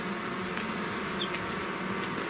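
Honeybees buzz in a dense, constant drone at the hive, close and steady throughout with no gaps and no voices.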